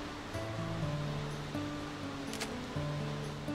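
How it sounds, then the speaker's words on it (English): Steady rushing waterfall from the video game Dark Cloud 2, a continuous broadband wash of falling water under quiet background music, with no talking. "you can take a picture of this waterfall"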